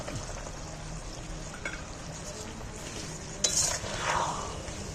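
Leftover frying batter tipped into a simmering jackfruit curry and stirred in, a steady low sizzle and scraping with a brief splash of pouring midway, close and without voices.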